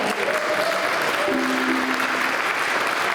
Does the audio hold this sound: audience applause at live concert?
yes